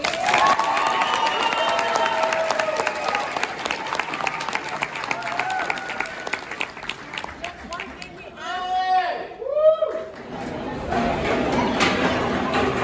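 Audience at a children's school performance applauding and cheering, a dense wash of clapping with shouting and crowd chatter, then a few quick whistle-like chirps and renewed clapping near the end.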